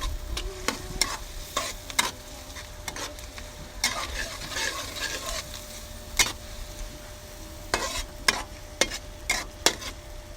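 Chopped garlic sautéing in a pan for garlic butter shrimp, a steady close sizzle broken by repeated sharp scrapes and clicks of stirring, with no voices.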